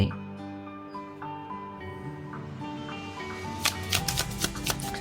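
Tarot cards are shuffled near the end as a burst of crisp, rapid riffles over soft, steady background music.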